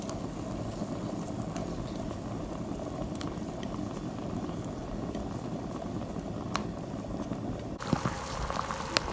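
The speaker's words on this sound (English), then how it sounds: "we're gonna drop the Shiratama ball in the boiling water" Water boiling in a pot with shiratama dango balls dropped in, bubbling and simmering steadily, a dense low churning with occasional small clicks, close and continuous.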